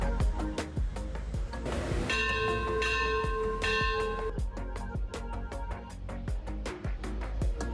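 Church bells in Singkawang ring with bright sustained tones amid a steady clatter of sharp percussive knocks, loud and close throughout.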